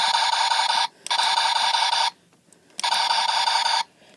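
Two loud, harsh electronic buzzing bursts from a Buzz Lightyear action figure's toy laser, each about a second long, separated by a short gap, with no talking.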